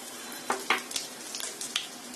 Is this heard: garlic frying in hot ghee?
yes